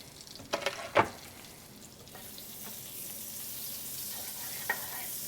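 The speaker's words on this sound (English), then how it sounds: "I got the saute pan preheated on medium high. Drop in our butter." Butter and a little olive oil hitting a saute pan preheated on medium high: a few sharp clatters and a splat, then a soft, even sizzle that holds steady and quiet to the end.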